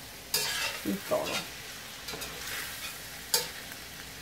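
Onion and garlic sauté in a pan with shrimp, a soft steady sizzle broken by occasional scraping stirs and clinks of a utensil, with a brief spoken word near the start.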